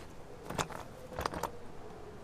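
A telephone ringing inside a building in the game Everybody's Gone To The Rapture: two bright, bell-like bursts roughly half a second apart, moderately faint over a low ambient background, with no talking.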